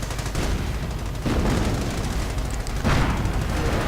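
Continuous gunfire and artillery from a real-time strategy game battle, with dense overlapping shots and booms as fire lands on a headquarters and a machine gun emplacement, loud and sustained throughout with no speech.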